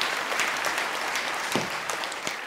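A studio audience at a Tamil youth oratory show applauds to welcome a young speaker, a dense, steady burst of clapping from many hands throughout.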